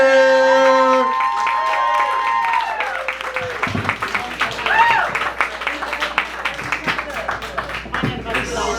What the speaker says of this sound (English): Let's give a round of applause for my man, Josie Bender.